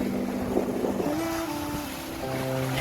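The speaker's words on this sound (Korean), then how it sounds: "파도가 세니까 너울이 세게 지니까" Strong sea waves rushing steadily against Simgok pier in Gangneung, with a low, wavering engine hum running underneath and no voices.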